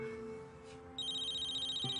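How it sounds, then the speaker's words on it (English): An electronic phone ringtone chimes steadily with bright repeating tones, starting about halfway through over a low background hum. "My cell's ringing."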